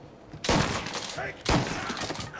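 Two loud gunshot bursts, about a second apart, ring out in the video game Mafia Definitive Edition, each a sharp crack with a short decay.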